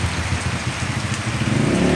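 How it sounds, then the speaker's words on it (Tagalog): Rain falls steadily onto surfaces at five in the afternoon before an approaching strong typhoon, a dense, loud, even patter with no voices. "Umpisa na yung ulan."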